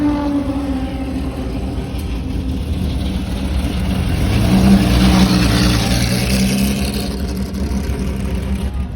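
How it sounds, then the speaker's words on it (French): Racing car engines at the Prenois circuit rev and roar continuously, a dense mechanical drone that swells louder through the middle and then holds steady, with no speech over it. "le stress quand tous les moteurs commencent à rugir"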